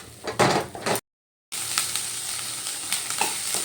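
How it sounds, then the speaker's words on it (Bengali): Ground spices, including cumin powder, sizzle and crackle in a hot pan as they are stirred and fried. The loud frying breaks off for a short silent gap, then resumes steadily. "এবার আমি সব মশলাগুলো ভালো করে কষিয়ে নেব"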